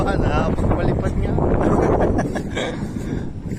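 Strong wind gusting while a kite is flown outdoors, loud buffeting rumble against the microphone throughout, with voices talking under it.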